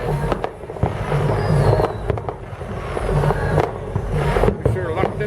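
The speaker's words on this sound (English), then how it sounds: "I'm watching the fireworks" New Year's fireworks over Baltimore pop and crackle continuously at a distance, with scattered sharper bangs, while a crowd and nearby people talk throughout.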